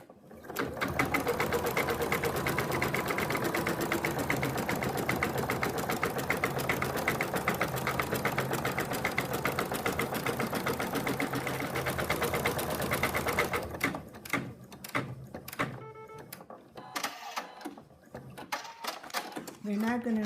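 An embroidery machine stitching applique fabric onto an in-the-hoop phone case, a fast, even mechanical chatter running steadily and fairly close, then breaking into short intermittent bursts with pauses near the end.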